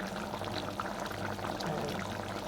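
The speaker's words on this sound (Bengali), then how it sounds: "আর একটু ঝোল দিয়ে কিছুটা ভুনা ভুনা করে হয়ে যাবে আমার" Broth poured into a pan of broiler chicken bhuna, a steady close liquid stream running under a low simmering hiss for the whole stretch, with no talking.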